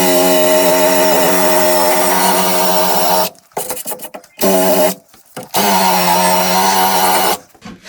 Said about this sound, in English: the first thing I'm going to do is just clean off the paint